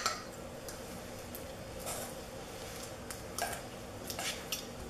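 A honey recipe being stirred in a bowl makes close, intermittent clinks and scrapes of a utensil against the dish, with short taps scattered through an otherwise quiet background.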